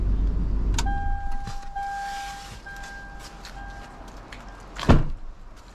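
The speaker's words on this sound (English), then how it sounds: "Let me shut off the engine so you guys can hear me." A Lexus LX or GX / Toyota Land Cruiser with hydraulic active height control sits idling as the engine is shut off; low rumble fades, tonal whine continues, with a few clicks and a sharp thump near the end.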